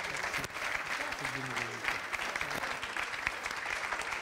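An audience applauds steadily throughout after an interview with a singer at a festival event, and a voice speaks briefly under the clapping.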